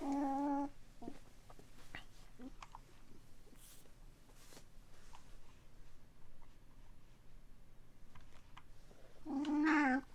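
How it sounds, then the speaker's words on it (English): A house cat meows twice, a short cry at the start and a louder, longer one at the end, near but soft, over a quiet indoor room with faint rustling between the calls. "This is my cat. Here it comes."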